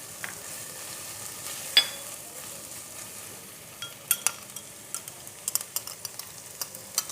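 Onions with cloves, cinnamon and green chillies fry in oil for black pepper chicken, a soft continuous sizzle broken by scattered clicks and scrapes of a spoon stirring, growing busier toward the end.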